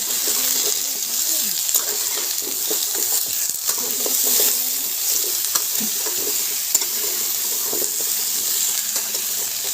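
A fish head curry with pumpkin and potatoes, seasoned with salt and turmeric, is stirred in a pan, giving a steady close sizzle with soft wet scraping of the spoon throughout.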